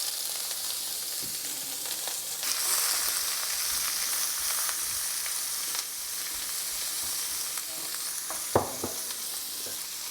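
Onion and garlic fry in olive oil for chilli con carne, giving a steady hissing sizzle close by, with a few spatula knocks and a swell as the pan is stirred; no talking.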